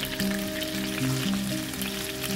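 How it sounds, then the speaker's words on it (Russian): Steady, close sizzling of chicken frying in a hot pan over medium heat, a continuous crackle with no voices. "И жарим где-то еще 3 минутки с другой стороны до красивой золотистой корочки на среднем огне."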